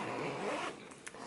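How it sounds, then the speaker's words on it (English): A bag zipper is drawn open in one smooth pull close up, followed by a couple of faint clicks. "We've got another zipper here."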